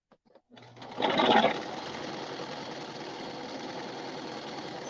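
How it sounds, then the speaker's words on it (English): A sewing machine stitches a fabric scrunchie, starting with a few light clicks before its motor kicks in, surging loudest for a moment and then settling into a steady, close, even whir to the end. "Going around not to sew too close to the edge."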